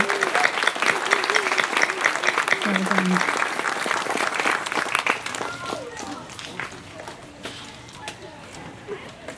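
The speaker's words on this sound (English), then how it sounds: "I'd like to just give them, especially our student speakers, one more round of applause" A graduation ceremony crowd at a charter school gives a hearty round of applause for the student speakers. The clapping is loud at first, then thins and fades into scattered claps with a voice speaking.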